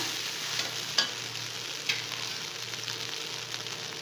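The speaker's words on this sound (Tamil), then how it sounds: "ஸோ இந்த மாதிரி பெரட்டி விட்டுக்கோங்க" Vegetable fried rice stir-fried in a pan, a steady sizzle with occasional scraping clicks of a spatula, close and continuous with no talking.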